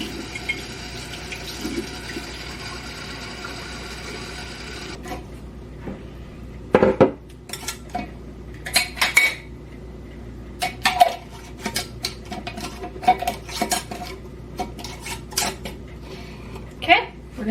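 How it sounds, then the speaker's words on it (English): Warm water runs from a tap for about five seconds as a steady rush while a jar fills for a vinegar mix. Afterward, glass clinks and knocks in scattered bursts, and no one speaks. "Now we're gonna fill up the rest with just warm water."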